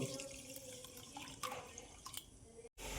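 Water is poured into a bowl of sugar to make syrup for mini gulab jamun, giving a soft, continuous trickle close by that stops abruptly near the end.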